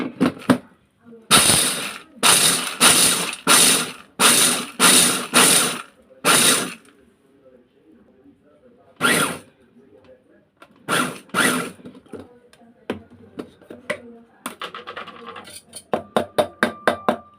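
A food processor grinds two cups of peanuts in loud repeated pulses, a steady series of rattling bursts close by, then a few shorter bursts and brief rattles as it winds down.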